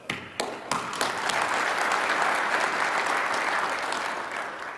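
An award-ceremony audience at the Earl Campbell Tyler Rose Award applauds in a dense, steady wash of clapping that stays loud and even throughout, a few sharper claps standing out at the start.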